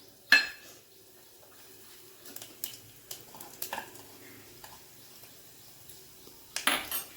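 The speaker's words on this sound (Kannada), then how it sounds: "ಎಣ್ಣೆ ಕಾಯ್ದಾದ್ಮೇಲೆ ಸಾಸಿವೆ, ಜೀರಿಗೆ ಒಂದೇ ಸಲ ಹಾಕ್ತಾಯಿದ್ದೀನಿ" Mustard and cumin seeds tipped together into hot oil: a crisp clink at the start, then scattered small pops and clicks, fairly quiet and close.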